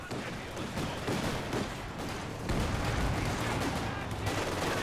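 Machine gun fire during a 4v4 Company of Heroes match on the Port of Hamburg map, sounding as dense, continuous battle noise with rapid gunfire and explosions throughout, loud and close with no pauses.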